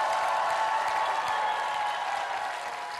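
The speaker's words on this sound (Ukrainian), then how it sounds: "Аплодисменты, Ярослав Молочный." Studio audience applauding on a Ukrainian TV show after a strongman pull-up challenge, an even, continuous wash of clapping heard from a distance, steady and moderately loud, slightly fading toward the end.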